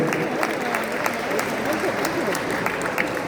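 Steady applause from a conference audience welcoming an honored guest at an international Thirukkural conference, with a voice speaking over the clapping.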